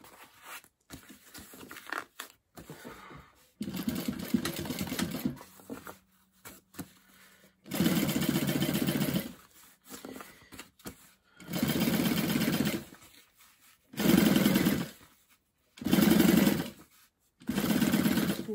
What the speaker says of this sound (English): you're going to top stitch along the bottom